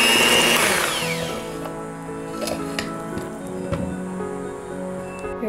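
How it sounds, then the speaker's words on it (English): An electric hand mixer whirs through oatmeal raisin cookie dough, starting loud and bright, then settling into a steadier hum with scraping knocks and uneven bursts as the beaters work the thick mixture nearby. "Then use the hand mixer and check under you on the bottom."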